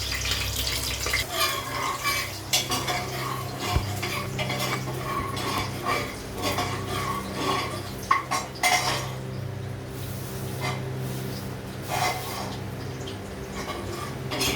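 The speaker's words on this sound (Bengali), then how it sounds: "একটু ভালো করে নেড়ে নেব।" A spoon stirs bay leaf, cardamom, cinnamon and garam masala in a metal pan, with steady scraping and clinking of utensil on cookware, close and moderately loud throughout.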